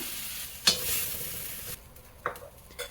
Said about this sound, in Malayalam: എണ്ണയൊഴിച്ച് കുറച്ച് ഉപ്പും മഞ്ഞളും കൂടെ ചേർത്തിട്ട് നന്നായിട്ടൊന്ന് വഴറ്റിയെടുത്തേക്കാം